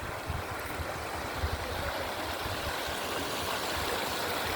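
A small seasonal hill stream in a Konkan village gurgles and rushes steadily, a constant close-up wash of flowing water with no voices.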